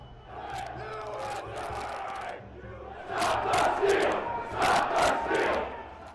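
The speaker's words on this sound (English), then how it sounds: "By 2:30, rioters breached security and made their way into the Capitol through windows and doors." Rioters breaching the US Capitol on 6 January 2021, a large crowd roaring and shouting in surging waves, with the loudest chanting bursts coming in the second half.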